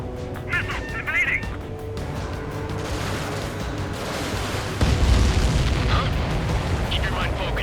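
An enemy transport plane blows up in the Ace Combat 7 air-combat game, a heavy boom around the middle swelling into sustained roaring rumble, with jet noise and radio chatter over it.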